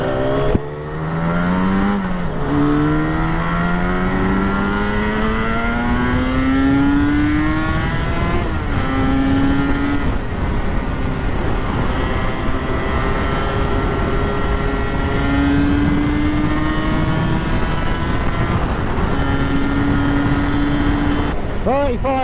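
Engines of a Kawasaki KR1S and a ZX4RR motorcycle rev up and down through their gears, climbing in pitch again and again. The sound is steady and loud across the whole stretch, and people talk over it.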